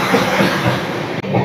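A train rumbles across the Farakka Barrage, a steady, close roar of wheels and carriage with a brief dip near the end.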